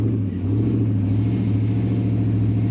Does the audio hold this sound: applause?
no